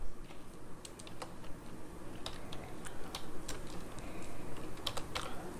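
Rapid keystrokes on a computer keyboard while a paper return form is filled in during data entry, an uneven run of light clicks in short bursts, close and fairly quiet, with no voices.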